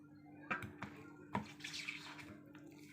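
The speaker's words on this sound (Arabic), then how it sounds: "ودلوقتي مية البصل وقرن الشطة اللي احنا كنا فرمينه هنزل عليه كده بالشكل ده." Grated onion and chili water being poured onto minced kofta meat in a kitchen, with soft, close splashing and a few wet plops over a faint hum, and no voices.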